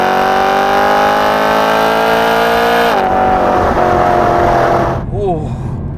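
BMW E92 M3 engine revving hard toward its 8,600 RPM redline, a loud continuous rising howl that drops back on the shift around midway and eases off near the end, with voices talking over it.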